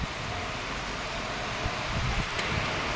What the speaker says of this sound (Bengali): এই দেখুন কত জোরে হাওয়া দিচ্ছে